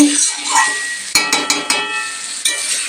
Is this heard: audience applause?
no